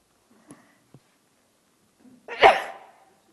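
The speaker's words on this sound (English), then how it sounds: "Excuse me, I'm going to have to sneeze." A single loud sneeze bursts out close to the microphone after a few faint breaths and small mouth sounds, then trails off quickly into silence.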